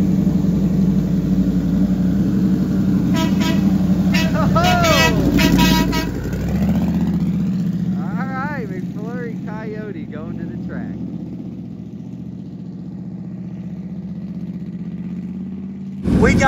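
A 2,000-horsepower Coyote-engined race car idles with a loud, steady rumble, then blips through a few sharp revs midway, with a horn-like tone early and voices talking over it.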